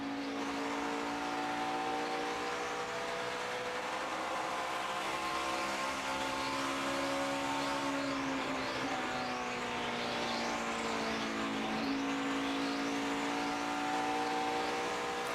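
NASCAR race cars at the 2013 5-Hour Energy 200, engines droning steadily at high pitch around the track with several rising-and-falling passes sweeping by, continuous and loud.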